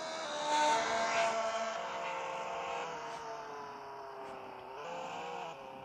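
Synthesized car engine from a Roblox game holds a steady harmonic drone with slowly shifting pitch, a brief rise near the start, fairly loud and continuous with no talk.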